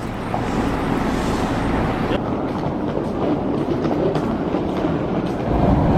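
Steady rumble of a metro train ride in Japan, with constant wheel and track noise and a slight shift partway through.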